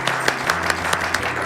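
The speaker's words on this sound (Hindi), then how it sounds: "बहुत बढ़िया, तालियां इनके लिए।" Applause on a radio programme, heard as a sparse run of sharp claps at a fairly regular pace over a steady low hum.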